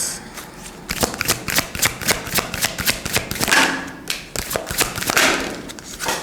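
Tarot cards are shuffled and drawn by hand in a run of quick, crisp riffling bursts and soft taps, close and fairly loud, with no talking.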